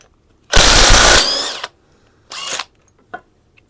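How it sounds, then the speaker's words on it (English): A nut on a GPX TSE 300 two-stroke engine is spun off with a 17mm socket on a power tool: one loud, close whirring burst of about a second, then two shorter bursts with brief pauses between them. "we'll just get the nut off the 17mm socket"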